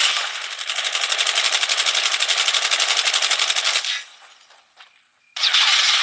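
Call of Duty Warzone Mobile gunfire rings out as a long, loud, rapid automatic burst close by, then a short quieter pause and a fresh burst at the end.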